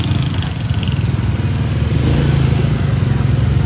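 A motorcycle engine drones loud and close, pulsing with steady revs as it pulls away along a street.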